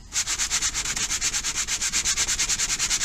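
Wood being hand sanded by hand, a steady back-and-forth scratching rasp with an even, rapid rhythm of strokes, close and alone with no voices.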